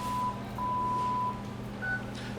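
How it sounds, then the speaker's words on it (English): An Alto Shaam combi oven's timer alarm sounds at the end of a ten-second countdown while the oven keeps running, giving steady electronic beep tones over a constant mechanical hum. "The oven alarms, but the oven is actually still running"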